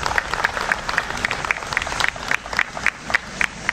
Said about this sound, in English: can I have a nice big round of applause for Boy Scout Troop 464 presenting the colors this evening